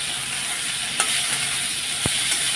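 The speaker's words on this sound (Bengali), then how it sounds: "তো পেঁয়াজগুলো এখন ভেজে নেব লাল লাল করে।" Onions frying in a pan, browning after fish was fried in the same oil: an even, close crackling sizzle with a couple of faint utensil taps, no voices.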